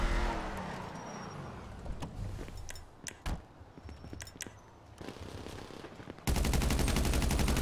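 Gunfire in GTA 5 Online crackles as a string of sharp, separated shots of varying loudness, then a loud, dense rattle or buzzing roar takes over at the end.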